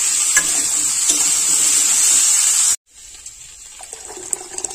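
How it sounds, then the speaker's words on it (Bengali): Vegetables for a vegetarian khichuri being stirred and fried in a pan, a loud steady sizzle that cuts off abruptly, then a quieter hiss with a few light clinks and scrapes. "বারবার নাড়াচাড়া করে 3 থেকে 4 মিনিট খুব ভালোভাবে নাড়াচাড়া করে এই খিচুড়ির সবজিটা রেডি করে নেব।"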